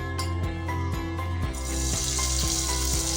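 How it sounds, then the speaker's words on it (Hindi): Minced meat sizzling in lightly heated oil in a pan while cooking hari mirch keema, a steady frying hiss under repeating music beats, with no talk. "ऑयल हल्का सा गर्म करके इसको इस तरह फैला लें और गर्म करके बस आपने इसके अंदर जो है ये कीमा ऐड कर देना है"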